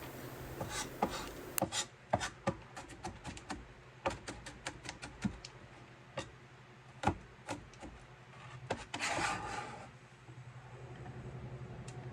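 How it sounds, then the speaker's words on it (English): A knife chops garlic on a cutting board at home while lunch is made: sharp, irregular taps come close and fairly quiet, in uneven bursts, with a brief scraping sound near the end. "So now I'm just chopping up my garlic"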